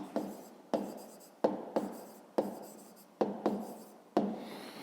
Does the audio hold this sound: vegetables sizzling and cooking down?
no